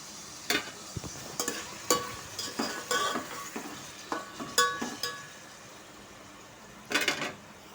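A spoon stirs ginger paste into a chicken biryani mixture in a pot, giving a dozen or so sharp metallic scrapes and clinks at an uneven pace, with a faint sizzle between them and no voices.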